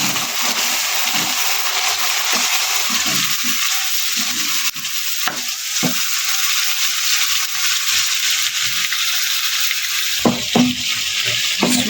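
Tomatoes dropped into ginger and garlic already frying in a pan for aloo matar, bringing a loud steady sizzle with scraping and stirring, close and continuous, no talking.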